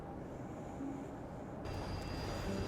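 Video game subway train ride, a steady loud rumble of the carriage with tonal hums and a shift in the noise partway through; no talking.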